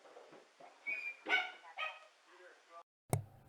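A little dog named Dieter lets out a few brief, high yips and whimpery barks indoors at a family home, in short bursts followed by a moment of silence and a sharp knock-like thud.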